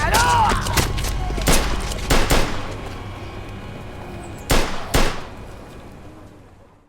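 Gunfire in the video game Mafia 2, several sharp, loud shots in quick pairs and singles, ringing out against a low rumbling game backdrop.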